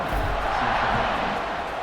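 A football stadium crowd at a Central Michigan versus Michigan game roars just before kickoff, a broad, steady wash of cheering voices that stays even and fairly loud throughout.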